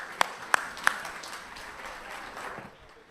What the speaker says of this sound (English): Ladies and gentlemen, another big round of applause